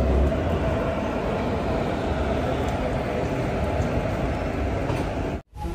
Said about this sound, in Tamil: அப்படியே நம்ம ஏறின மெமு ட்ரெயின் வந்து போயிட்டுருக்கு